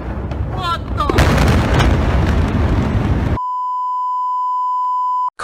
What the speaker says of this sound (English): Commenters seem to suggest this explosion took place in Japan